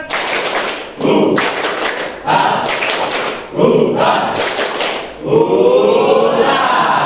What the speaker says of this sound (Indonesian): Semuanya tepuk semangat.